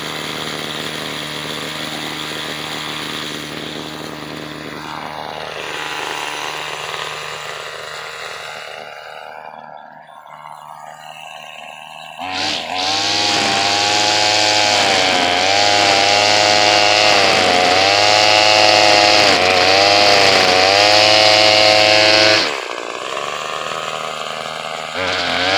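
A chainsaw fitted with a new Chinese Walbro WT 913 carburetor idles with a rising and falling rev, pauses briefly, then screams at high throttle in pulsing waves for about ten seconds before dropping back to idle.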